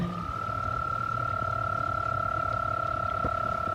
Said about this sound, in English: It's the mating call of the toads.